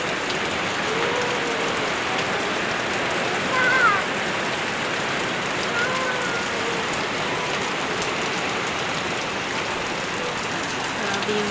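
Steady, heavy typhoon rain pours down continuously, a dense hiss of drops close by with no pauses.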